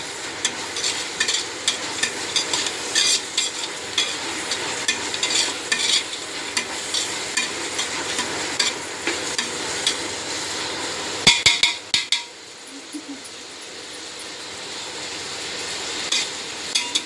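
Ingredients sauté in a pan for biryani, with a steady sizzle and frequent stirring scrapes running throughout, a few sharp metallic knocks near the middle, then a quieter stretch of frying before the stirring resumes.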